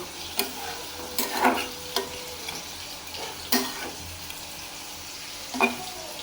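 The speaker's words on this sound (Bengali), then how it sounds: "আর এখানে ডাল ভুনা করব, এটা একটু কষুক, কষানি হোক।" Dal being sautéed (bhuna) in a pan: a soft background sizzle broken by a few distinct scraping strokes of a spatula stirring against the pan, spaced irregularly.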